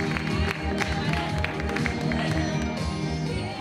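Audience applause and cheering at a Falla Cervantes presentation as a young girl walks the runway, a dense, steady wash of clapping with crowd noise and music underneath.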